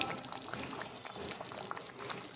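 A chhana kofta curry simmers and bubbles at a gentle boil, a soft, continuous burbling with small pops, quiet and close, no talk over it.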